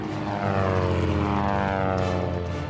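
Propeller airplanes at an airshow over water drone loudly and steadily, a close, sustained engine roar with throbbing harmonic tones and a slight pitch shift, no voices.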